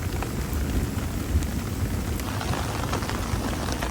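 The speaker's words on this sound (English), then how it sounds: "Oh yeah, it's a lot of rain" Heavy rain and hail pour onto a tarp sheltering campers on a Quetico canoe portage trip, a dense, steady drumming patter that fills the whole clip without any voices.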